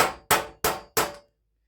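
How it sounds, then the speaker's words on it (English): Four sharp metallic hammer strikes on a rivet on a Coleman camp stove's wind wing bracket, spread with a socket, land in a steady rhythm and ring briefly before silence, close and loud, with no talking. "I'm starting out hammering at this angle"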